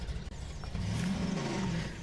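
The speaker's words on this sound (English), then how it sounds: "The engine was literally screaming its ass off." A car engine revs loudly and steadily, a strained mid-range roar that climbs and holds for about two seconds with no voices over it.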